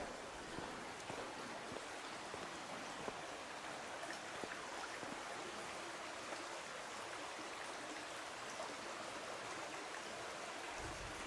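A river flows near a campsite in Gloucester in July, a steady, even rushing wash of water heard from a short distance, with no voices.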